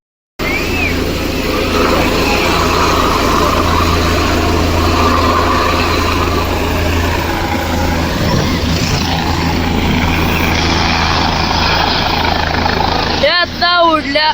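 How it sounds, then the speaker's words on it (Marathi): Loud, continuous roar of a helicopter engine and rotor as it takes off by the Krishna riverbank, holding steady throughout, with a brief burst of varied tonal sound near the end. "चला, हेलिकॉप्टर उडलेला आहे"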